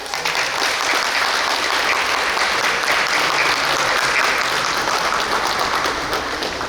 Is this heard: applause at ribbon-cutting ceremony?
yes